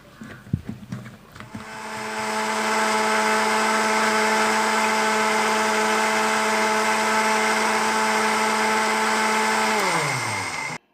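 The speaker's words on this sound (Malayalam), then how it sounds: "ഇത് നമുക്ക് മിക്സിയിലിട്ട് അടിച്ചിട്ട്" A mixer grinder blending banana, milk and nuts into a protein shake: a few clattering knocks, then a loud steady motor whine that holds for about eight seconds before winding down and stopping.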